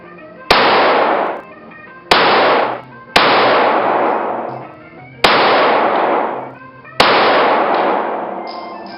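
Five loud, close gunshots from a Glock 26 Gen 3 pistol fired during a concealed-carry qualification, each a sharp crack with a ringing tail, spaced irregularly about one to two seconds apart.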